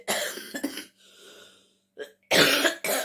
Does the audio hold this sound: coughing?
yes